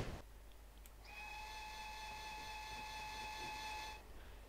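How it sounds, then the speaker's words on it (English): A GWR 48/14/58xx steam locomotive whistle in Train Simulator 2016 gives one steady, loud, sustained blast lasting about three seconds, then cuts off cleanly over a low background hiss. "Yeah, I'm really not keen on that whistle."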